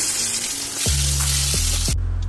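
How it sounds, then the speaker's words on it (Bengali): Fish frying in hot oil in a pan on a home stove, a loud, steady crackling sizzle that continues without pause, with a low hum underneath and a sharp cut near the end. "এটাতে আমি মাছ ভাজা বসাচ্ছি"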